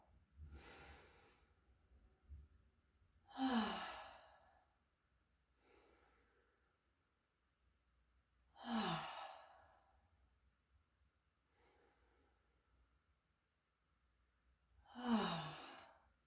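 Slow, deep breaths are taken during a pressure point routine. Three long, audible exhales come roughly every five to six seconds, each rising then fading, with softer inhales between them in a quiet setting.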